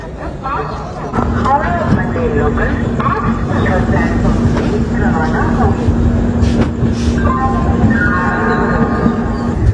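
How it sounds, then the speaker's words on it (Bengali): A WDG4 diesel locomotive hauls a passenger express in along a station platform, its steady engine drone and rolling rumble sounding close and loud beneath continuous voices and crowd chatter. "আর ট্রেনটা কাশের থেকে প্ল্যাটফর্ম দিয়ে নিয়ে এলো WDG4 মানে ডিজেল ইঞ্জিন 4"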